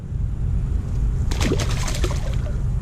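A bass released back into the water after being caught on a worm while fishing in North Carolina, giving a short watery splash and slosh over a steady low background rumble.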